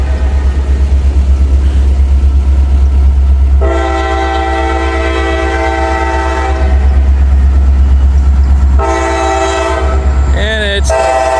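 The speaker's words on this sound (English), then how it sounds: "SE60. That's a pretty locomotive." An SE60 locomotive passes near Union Road in Carlisle, its loud diesel rumble running throughout with two long, strong horn blasts and a squealing screech near the end.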